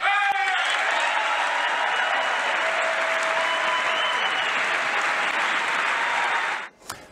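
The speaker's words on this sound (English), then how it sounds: "One person clapping." Applause rings out in a broadcast setting after a speech line about record-low African-American unemployment: a dense, steady wash of many hands clapping, loud and continuous for several seconds before stopping abruptly near the end.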